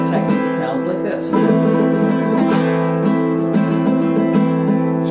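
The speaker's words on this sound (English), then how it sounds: "In this one we're going to talk about a technique called triplet rasgueado." Flamenco guitar played in a rumba rhythm with rapid triplet rasgueado strums, a dense, continuous flurry of bright strummed chords rolling steadily and loud for several seconds without any voice.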